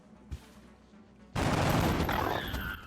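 A sudden sustained volley of soldiers' gunfire in XCOM: Enemy Within, loud and dense, erupts after a moment of near quiet with one faint tap, then rattles on steadily to the end.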